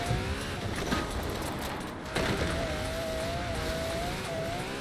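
A Ferrari race car engine in the racing game Forza Horizon 4 hums at a steady high pitch with a gradually rising tone, accompanied by a constant rushing wind and road noise, moderately quiet and with no talk.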